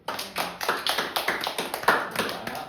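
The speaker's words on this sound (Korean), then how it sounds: "박수." A church congregation claps in a steady, even rhythm, with sharp, close hand claps repeating quickly and without pause and no voices over them.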